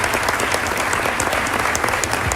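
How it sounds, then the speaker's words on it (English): An audience at a prison reform summit with the US president applauds steadily, a thick, even wall of clapping throughout. "give her applause for her courage in trying to bring this forward."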